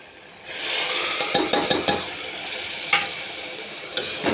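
Boiled beetroot drops into hot oil for beetroot biryani, setting off a sudden steady sizzle with a cluster of sharp spatula taps and scrapes, close and without voices.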